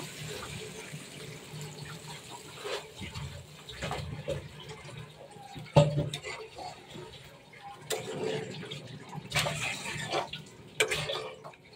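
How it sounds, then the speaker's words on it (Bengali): Water pours into a pan of chicken liver curry in an irregular splashing trickle with occasional clinks. It is fairly faint and close, with a few louder bursts and no talk. "কষানো হয়ে গেছে, এখন আমি পানি দিয়ে দিব।"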